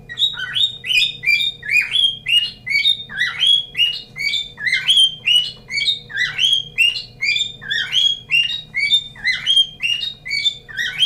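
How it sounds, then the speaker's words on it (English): Loud, busy chirps and squawks from a bird repeat without pause, a dense run of sharp, close calls over a low indoor hum, with no talking. "Shut up, bird."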